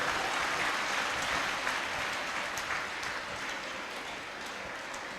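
A church congregation claps together in a dense, steady burst during a worship service in Nellore, the applause sustained for several seconds before easing slightly, with no voices over it.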